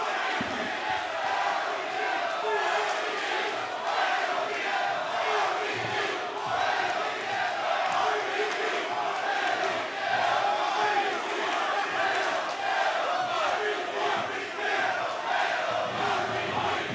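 A wrestling crowd at a Pacific Coast Wrestling event roars and chants steadily, a loud, sustained arena din of many voices filling the space throughout.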